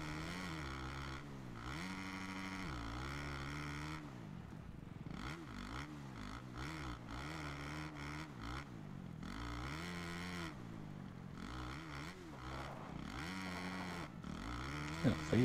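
A motocross bike in MXGP 2023 at Matterley Basin snarls continuously, its engine climbing and dropping in repeated rev surges as it re-accelerates out of turns, loud and close throughout.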